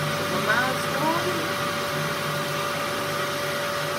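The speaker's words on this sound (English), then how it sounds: "Vacuum cleaner's on" A household vacuum cleaner runs steadily in a workshop before leather skiving with a Dremel drill, a constant whirring drone with a thin tonal whine and no pauses.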